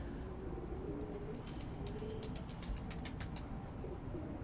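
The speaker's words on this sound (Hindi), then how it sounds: "अब इस कबूतर का आप जरा थोड़ा सा स्ट्रक्चर देखें, ये मादा है मलक साहब" Pigeons on a rooftop in Dhok Kala Khan, Rawalpindi, faint and distant, with a quick run of wing flaps or clattering beats midway under a low background hum.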